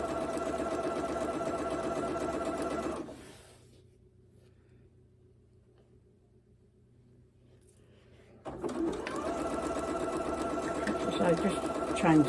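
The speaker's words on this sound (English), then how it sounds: "So just chain stitch them." A sewing machine chain stitches Moda jelly roll quilt pieces, running steadily and close for a few seconds, pausing to near quiet, then starting up again with a brisk, even whir.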